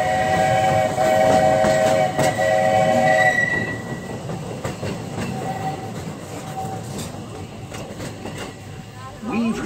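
Magic Kingdom steam train running between Main Street USA and Frontierland, its whistle sounding loudly over a steady rolling rumble of the cars, with a voice talking over it.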